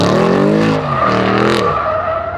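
Mercedes C63 launching off the line with wheelspin: a loud, revving engine wails upward as the tires squeal and skid, then the engine note drops away sharply, all close and without talk.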